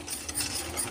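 Cake batter for an eggless Christmas plum cake being stirred with milk curdled by lemon, a steady scraping and clinking of utensil against bowl for about a second, close and moderately loud, with no voices.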